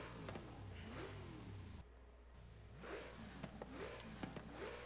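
A tuned drift car in Forza Horizon 5, engine fully upgraded but with its exhaust left stock, revs loudly in repeated rising and falling sweeps with a short dip in the middle, no talking.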